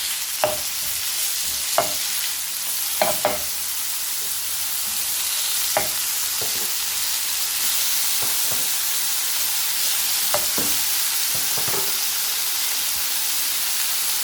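Sliced chicken for a beetroot and chicken wrap hits a hot pan with a steady bright sizzle, broken by sharp clicks and scrapes of stirring scattered throughout.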